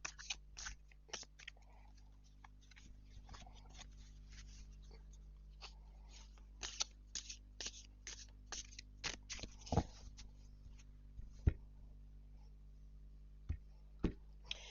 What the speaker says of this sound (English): Let's give it a quick shuffle.